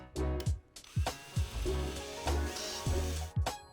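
Power driver repeatedly driving screws into blind brackets during a timber Venetian blind install, short whirring bursts with low thuds recurring about every half second, close and fairly loud.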